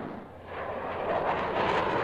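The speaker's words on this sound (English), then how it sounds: "how tough it can be to track a jet that can break the sound barrier at any time" Jet aircraft passing overhead at an air show, a broad, steady roar that swells gradually toward the end without any voices.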